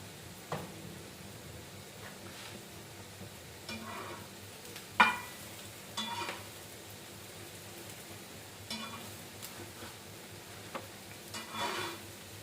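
Plain omelette frying in a large kadhai, a faint steady sizzle with occasional soft scrapes and clinks of a utensil over a quiet kitchen background.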